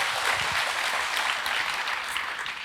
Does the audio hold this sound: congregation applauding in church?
yes